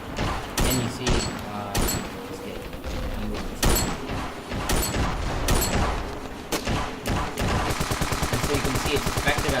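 Gunfire from Ravenfield, a video game: a run of loud, sharp single shots spaced unevenly through most of the stretch, then a rapid burst of closely spaced rounds near the end.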